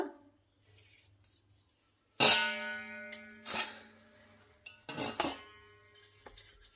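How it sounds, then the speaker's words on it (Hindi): Coarsely pounded millet being scraped out into a metal paraat, with sharp metallic clangs and scrapes in a few bursts separated by quieter pauses and light handling noise. "अब मैं कूटी गया मैं इन परात में निकालू सब"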